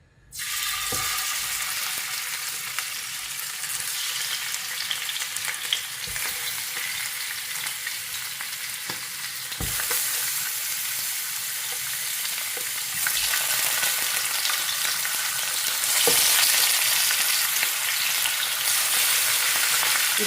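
Pieces fry in hot oil, a dense, continuous close sizzle filling the whole stretch, with occasional small clicks and a slight rise in intensity toward the end.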